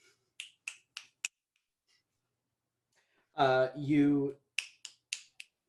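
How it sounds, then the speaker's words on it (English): Several sharp finger snaps in a quick run, then a pause and a voice speaking briefly, followed by another short run of crisp snaps close by. "snap your fingers at him"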